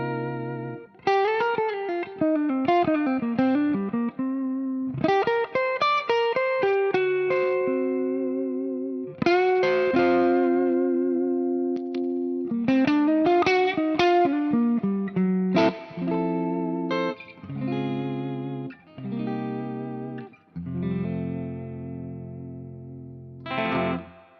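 A clean electric guitar played through a Two-Rock amp on its clean channel with a humbucking pickup: melodic phrases, single-note runs and ringing chords with sustained tails and pauses between, up close and unaccompanied.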